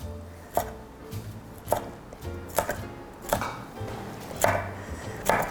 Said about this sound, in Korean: 풋고추, 홍고추 이것도 이렇게 썰어 주시면 돼요